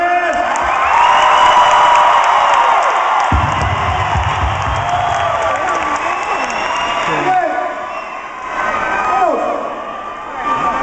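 A large crowd at a dance show cheers, whoops and applauds loudly, sustained for several seconds before tapering, with a few shouts rising again near the end.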